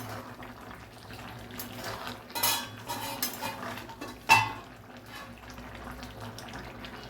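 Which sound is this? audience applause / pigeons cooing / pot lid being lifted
pot lid being lifted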